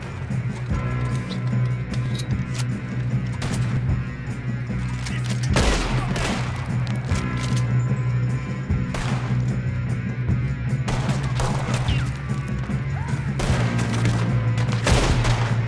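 Gunfire rattles through a Red Dead Redemption 2 shootout: repeated sharp shots and bursts, some close and loud, others overlapping in quick volleys, over a constant low game ambience.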